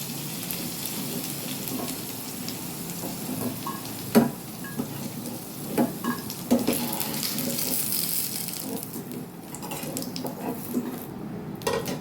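Potatoes fry in hot oil for a Bengali clam recipe, a continuous close sizzle with occasional sharp knocks and scraping of a utensil, plus a brief rush like running water, no voices.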